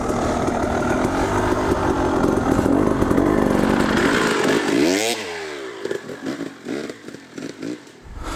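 An enduro dirt bike engine runs at low revs while almost coasting up a hill, a close rough putter that rises, then a sharp rev sweep before dropping to quieter uneven blips and near silence.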